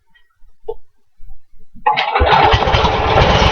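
A gas-powered leaf vacuum is pulled over after a few soft handling clunks, then its small engine catches and runs loud and steady at high revs, close by, with no talk.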